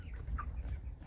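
Hens clucking softly inside a lit farm coop, a faint brief call over low rumbling background noise.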